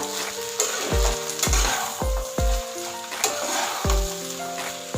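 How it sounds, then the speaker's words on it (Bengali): Ghee and garam masala are stirred together in a hot pan, with a bright sizzle beneath repeated hard knocks of a utensil against the pan, several sharp close strikes spaced about half a second apart. "এবার এটাকে একটু মিশিয়ে নেব, ঘিটা আর গরম মশলাটা"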